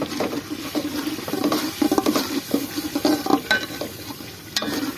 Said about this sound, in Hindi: थोड़ी देर के लिए भून लेंगे।